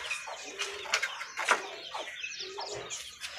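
Pigeons coo on a rooftop loft in scorching heat, their soft repeated calls mixed with brighter chirps and other bird sounds, fairly close and continuous over a faint background.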